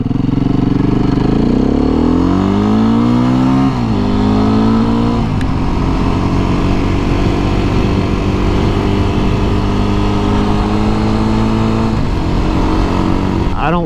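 Beta dirt bike engine running steadily while riding, loud and close throughout, with rising pitch sweeps as the rider revs through the gears and a brief dip before climbing again.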